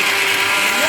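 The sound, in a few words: blender running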